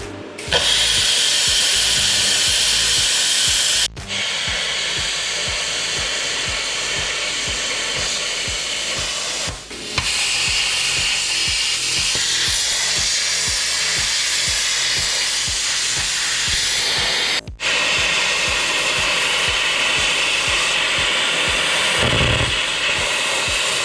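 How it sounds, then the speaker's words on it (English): A plasma cutter slices through a steel bracket with a loud, harsh, continuous hiss, broken into three long bursts by brief pauses, close and without talk. "I'm just gonna take the plasma cutter,"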